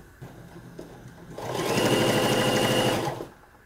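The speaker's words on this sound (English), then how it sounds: "Do a little stay stitch here." Sewing machine runs a short stay stitch on a make-up bag, a steady close whirring and rapid needle chatter lasting about a second and a half before stopping, with quieter handling noise around it.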